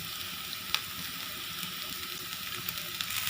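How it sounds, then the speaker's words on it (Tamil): Onions and green chilies sizzle steadily in hot oil in a pan for an aloo paratha filling, with a soft continuous crackle and a few small pops, heard alone. "இப்போ நம்ம கட் பண்ணி வச்ச பச்சை மிளகாவை ஆட் பண்ணிடலாம்"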